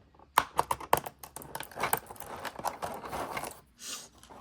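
An X-Acto knife cuts and peels tape to free pieces from a plastic toy clamshell. Close, faint crinkling, tapping and scraping come in quick irregular bursts.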